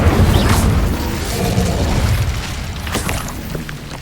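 A fiery Incendio spell in Hogwarts Legacy erupts as a loud, dense whooshing blast that roars continuously for about four seconds, with crackling bursts inside it, and no voice over it.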